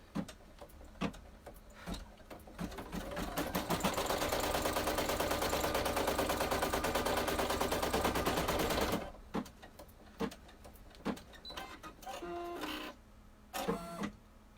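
An embroidery machine stitches a tack-down line on a zippered key fob: a rapid, even mechanical chatter that builds and holds for several seconds between sparse clicks and handling noises.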